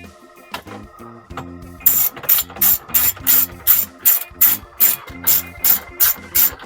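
A ratchet clicks as phone mount screws are tightened down in a Chevy Colorado, first with a few scattered clicks, then a run of about a dozen evenly spaced ratcheting strokes, close and crisp.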